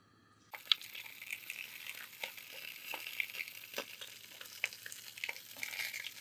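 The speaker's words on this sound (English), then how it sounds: "So we're just going to brown these off" Italian sweet sausage links start browning in oil in a Dutch oven: after a short silence a sudden close sizzle begins, then a steady crackle with scattered sharp pops.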